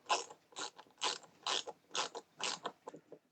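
A screwdriver drives small FM screws into a 1:48 scale U96 U-boat model, giving seven soft, regular ratcheting clicks in a quick steady rhythm. The sound is close and quiet, with no talk.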